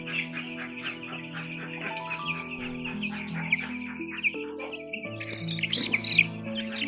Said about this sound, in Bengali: এগুলো মুরগির বাচ্চা,